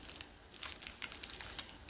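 Thin plastic bag crinkling and rustling close by while stretcher bars for large canvases are unwrapped, a steady run of crackly handling noise with a few sharper crinkles.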